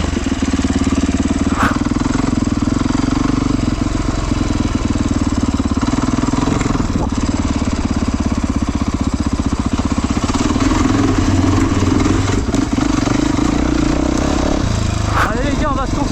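A Yamaha YZF 450 dirt bike engine runs loud and close throughout, a steady buzzing roar with rhythmic pulsing and slight rises in revs, while someone talks over it.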